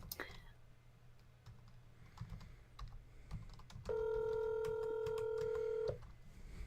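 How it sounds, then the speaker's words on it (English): A phone is dialed: a few soft key taps, then a steady two-second touch-tone beep rises clearly above faint background voices and clicks in a quiet room. "we'll get Brian on the phone"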